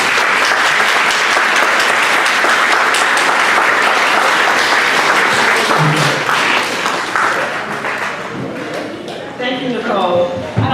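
An audience at a Veterans Day event applauds to welcome a guest speaker to the stage, a sustained wave of clapping from many hands that thins toward the end as a voice begins speaking.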